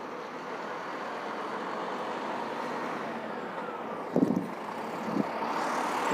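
A Marcopolo G7 bus pulls away from a station, its steady engine drone and road rumble holding throughout with a couple of brief louder knocks near the end.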